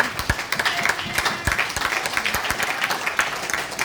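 A church congregation applauds in a continuous burst of many hands clapping, fairly close and lively, with some voices mixed in.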